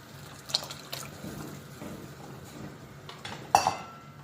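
Tamarind water poured into a pan for a fish curry (chepala pulusu), splashing with a few sharp metallic clinks of utensils against the pan, close and fairly quiet, with no talk.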